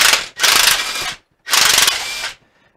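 A ratchet fitted with a reducer and a 3/8 socket breaks a bolt loose on a Saginaw transmission, giving two loud, close bursts of rapid metallic clicking separated by a short pause.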